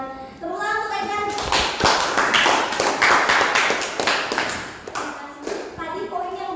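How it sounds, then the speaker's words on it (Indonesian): A burst of applause from a small group in a classroom, lively clapping for a few seconds that tapers off, with voices heard before and after. "Tepuk tangan untuk Egan."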